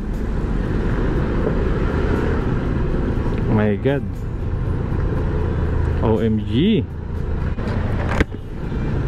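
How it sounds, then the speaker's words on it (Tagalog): Busy road traffic near Kalayaan Bridge in Makati along the Pasig River, a steady broad rumble of engines with passing vehicles and a brief horn-like tone, while people exclaim over it. "Yun, traffic ulit."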